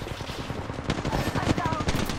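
Automatic gunfire and bursts of shots in a video game firefight, dense and continuous with rapid rattling, close and fairly loud, with brief voice fragments mixed in.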